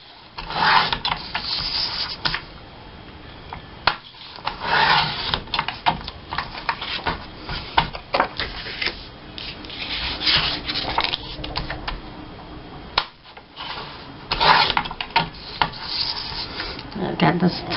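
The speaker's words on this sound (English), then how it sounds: "I need to trim these slightly because they got these kind of discolored edges." Discolored edges being trimmed off old photographs, heard as steady rubbing, rasping cuts that come in repeated strokes with brief pauses, close and fairly loud, with no talking.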